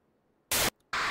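Harsh static noise from the Pikachu.exe horror game, two loud broadband bursts separated by a short gap, following a near-silent start.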